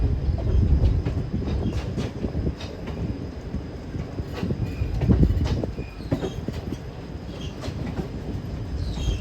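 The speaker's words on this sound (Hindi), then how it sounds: "अब यहाँ पे ये ट्रेन NR की लाइन में मर्ज हो रही है।" A superfast express train runs on rails in heavy rain as it merges onto another line, giving a loud, steady rumble with rhythmic clicks from the wheels and occasional faint squeals, with no voices.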